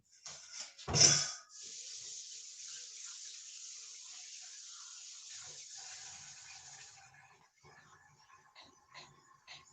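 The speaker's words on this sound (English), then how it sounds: "I'm just going to go give my hands a quick wash" Running water from a kitchen sink tap as hands are quickly washed, a steady hiss lasting several seconds after a brief louder splash, then tapering off into faint handling clatter.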